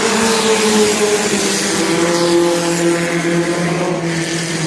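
Racing trucks roar around Langley Speedway during a night race, a dense continuous engine drone with tonal whine from several vehicles at once, steady and loud without talk.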